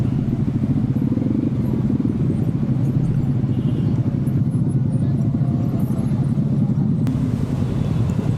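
Dense motorcycle and car traffic crawls through Bogor streets on New Year's night 2024, a steady loud engine drone with wind buffeting the microphone throughout.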